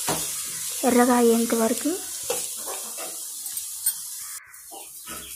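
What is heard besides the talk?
soy chunks (meal maker) frying in a pan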